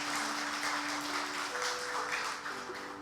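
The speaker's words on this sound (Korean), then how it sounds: "수민이 나영이에게 박수 한번 해줄까요?" A church congregation claps for two children during a worship service, a steady wash of applause with a low electrical hum underneath, fading slightly near the end.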